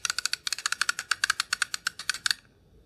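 A Parkside multi socket tool being handled gives a rapid run of about twenty crisp, close clicks in a quick ratcheting rhythm, then stops, with no talk.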